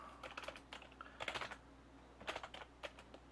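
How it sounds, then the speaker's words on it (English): Quiet clicking on a computer keyboard in short, uneven bursts of keystrokes with brief pauses, close to the microphone, with no voices. "I can't type apparently."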